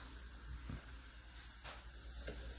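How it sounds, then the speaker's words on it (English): Jamaican fried dumpling dough crackles and sizzles steadily in hot oil, a soft close hiss with a few sharper pops, no voices. "And now I'm going to carefully place it into the oil."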